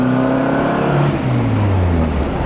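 A 1967 Morris Minor's engine runs smoothly on its stock exhaust with little valve clatter, a steady, loud, low drone that eases slightly in pitch, heard alone without voices.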